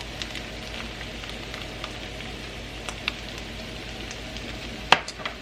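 Fennel seeds sizzling in a hot pan of vegan harvest scramble with greens and parsley, a steady soft frying crackle with a sharper pop near the end.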